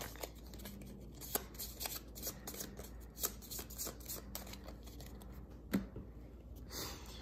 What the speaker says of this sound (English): we shuffle this back into the encounter deck